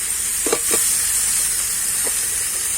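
Figs stir-fried in spiced masala with oil sizzle steadily in a pan, and a spoon scrapes through them in a quick pair of strokes and then once more.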